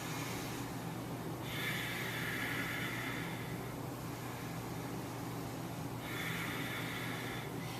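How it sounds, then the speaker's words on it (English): Forceful, fierce yoga breathing exhales during an advanced flow, two long hissing breaths pushed out over a steady background hiss, with no talking. "Nice fierce exhale."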